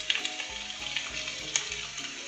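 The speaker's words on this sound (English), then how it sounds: "Get this sauteed down some, add a little salt and pepper" Fajita vegetables for beef fajitas sauté in a hot pan with a steady, close sizzle, punctuated by soft rhythmic stirring scrapes.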